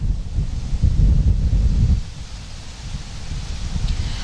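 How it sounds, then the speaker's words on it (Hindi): Strong wind and rain on the Digha seashore, a loud roaring rumble that swells heavily at first and then settles into a steady buffeting gust. "वहां पर काफी तेज हवा चल रही है, इस वक्त बारिश भी हो रही है।"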